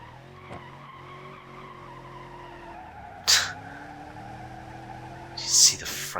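A car spinning out in the BeamNG.drive driving game, a steady droning engine tone broken by two short, loud bursts of tire screech near the middle and the end.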